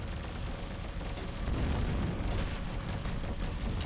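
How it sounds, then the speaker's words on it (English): Explosions in the space game Avorion come through as a dense, continuous rumbling roar. Bursts blend into a loud, sustained wash with no clear gaps and no talk over it. "Explosions."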